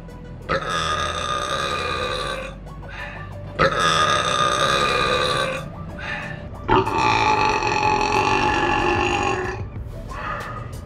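Three long, loud, drawn-out burps in a burping contest, each lasting two to three seconds with brief gaps between, rough and guttural and close to the microphone.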